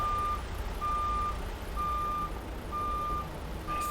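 A truck in American Truck Simulator, on a frosty winter map, reversing with its backup alarm. Five evenly spaced beeps repeat clearly over a constant engine rumble, and no one talks.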